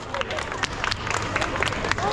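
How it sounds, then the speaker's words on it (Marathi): An audience claps for the finalists at a giant real-life snakes and ladders game, with a steady wash of crowd applause and murmur running under a speaking voice for about two seconds. "संचिता सचिदा साठी टाळ्या वाजवा आणि हे फायनलिस्ट होते त्यांच्यासाठी पण टाळ्या वाजवा"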